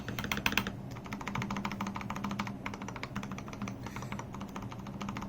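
Typing on a Redragon K552 mechanical keyboard fitted with lubed Outemu Ice Purple switches; a steady run of close, crisp keystrokes with occasional heavier taps, no talking.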